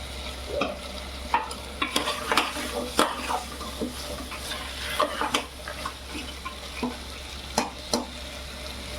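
Potatoes sizzle as they are added to a pan, with repeated scraping and stirring strokes, close and fairly steady, over a low background hum.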